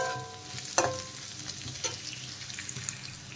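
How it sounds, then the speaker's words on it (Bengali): Vegetables for sabudana upma frying in a pan, a steady close sizzle broken by a couple of sharp utensil scrapes and clinks. "সবজি খুব ভালো করে ভাজা হয়ে গেছে, ভাজতে ভাজতে একদম নরম হয়ে যাবে সবজি।"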